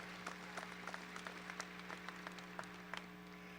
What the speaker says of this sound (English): Let's have another round of applause for our student athletes from Lakeview Centennial High School